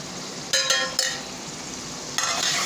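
Biryani masala, chilli powder and sambar powder sizzle in oil in a pan, a steady close crackle punctuated by a few sharp metallic scrapes and clinks of the spoon as it stirs.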